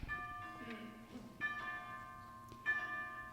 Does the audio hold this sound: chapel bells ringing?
yes